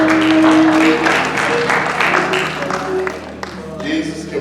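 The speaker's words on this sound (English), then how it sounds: "round of applause" A church congregation applauds loudly and steadily at close range, with dense clapping that thins out toward the end while voices call out over it.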